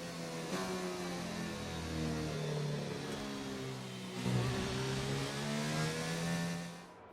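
A Formula 1 car engine in the F1 2019 video game, racing in Australia, a loud high whine climbing through the gears with rising pitch sweeps and a brief dip before accelerating again, heard alone.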